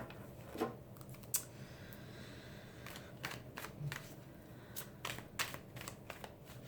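A Waite tarot deck being cut and handled, with a series of short crisp card snaps and shuffling clicks scattered at irregular intervals, close and fairly quiet.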